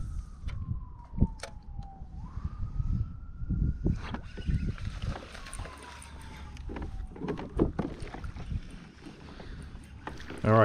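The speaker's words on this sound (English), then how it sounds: "Sirens in the background." Emergency sirens wailing in the distance, a faint sweeping tone that rises and falls across several seconds, heard outdoors from a pedal kayak over splashes, paddling knocks and water noise close by.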